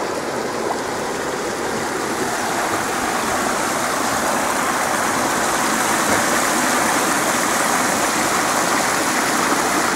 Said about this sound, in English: See over there at that part of the garden, there's a large water spout in the pond.